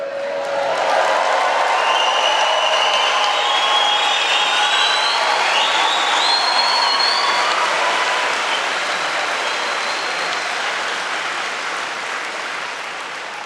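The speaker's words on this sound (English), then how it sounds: "that round of applause probably serves as a huge round of applause for our graduates" Raucous audience at a London degree graduation ceremony applauding and cheering loudly and continuously, a dense wash of clapping with scattered whoops and whistles that holds steady before easing slightly toward the end.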